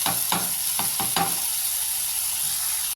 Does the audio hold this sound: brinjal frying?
yes